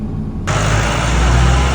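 Tractor engine pulling away, a loud, close low rumble that starts abruptly and holds steady, with broadband noise over it.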